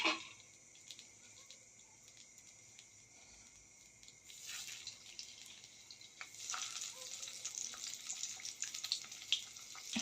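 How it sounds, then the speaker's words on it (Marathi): Taro leaf rolls (alu vadi) are dropped into hot oil and fry with a soft, watery sizzle that starts faint and swells into a fuller, crackling hiss as the pieces go in, heard close with no talk. "आता ह्यामध्ये मी आळू आळूवड्या घालून तळून घेते"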